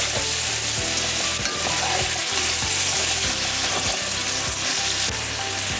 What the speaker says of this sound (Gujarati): હવે બધું આપણે મિક્સ કરી લઈશું.